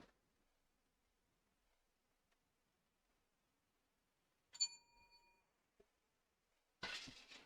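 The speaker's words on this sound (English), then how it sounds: "I'm gonna get a bell." A single high-pitched bell rings once, clear and ringing out for under a second in near silence, followed by a faint click and a short burst of rustling noise.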